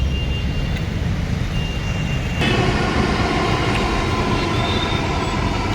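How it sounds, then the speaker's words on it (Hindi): A metro train from Bahadurgarh rolls in, a loud continuous rail rumble and hiss with faint high squeals, swelling as it nears partway through. "ये बहादुरगढ़ से मेट्रो आई है।"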